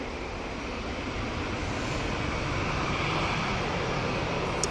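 An EasyJet airliner departs Manchester for Naples, a steady, even jet roar heard from a distance with no voices.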